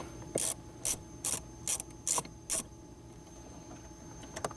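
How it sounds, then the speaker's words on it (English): A ratchet wrench loosening a 10mm bolt in the center console of a 2012-2018 Lexus ES, six crisp clicking bursts in an even rhythm, close up and clear, followed by quiet handling. "We'll now remove the 10mm bolt on the passenger side as well."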